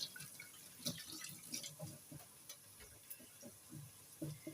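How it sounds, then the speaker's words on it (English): Running tap water rinses a leek at a kitchen sink for a butternut soup, with a steady soft splashing and scattered drips that stay fairly quiet and close throughout. "So we rinse this."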